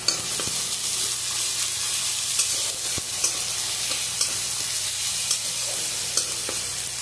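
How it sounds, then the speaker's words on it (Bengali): Steady sizzling of onion, tomato, ginger and garlic frying in a pan, with occasional stirring clinks and scrapes, close and continuous with no talking. "টমেটো, পেঁয়াজ, আদা, রসুন সব ভাজা হয়ে গেছে।"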